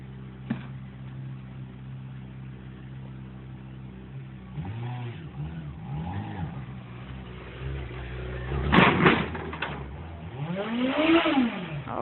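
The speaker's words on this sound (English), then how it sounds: "Here he is going to put his CBR 600 onto a 26-foot Penske truck." A Honda CBR 600 motorcycle rides up a ramp into a 26-foot Penske moving truck, its engine revving in rising and falling surges, swelling loud near the end.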